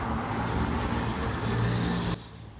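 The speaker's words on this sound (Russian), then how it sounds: "Сильно слышны машины, которые не прекращают ехать ни днем," Steady stream of road traffic passes a hotel in Alanya, Turkey, a continuous broadband rush of cars with a low engine rumble that swells briefly, then drops away abruptly near the end.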